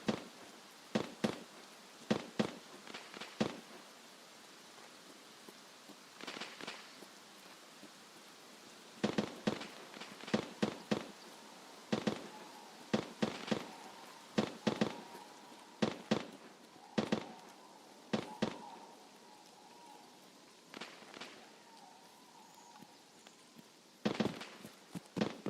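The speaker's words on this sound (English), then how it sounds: "What on earth is he still even shooting at?" Sharp gunshots from an enemy in Escape from Tarkov crack out in irregular bursts and single reports, some clustered and rapid, others spaced by pauses, at moderate distance with no talk over them.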